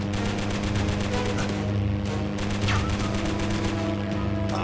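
Continuous rapid machine-gun fire from a Hurricane fighter's guns in the WW2 air combat game 303 Squadron, a loud steady rattle that runs the whole clip under the drone of the engine.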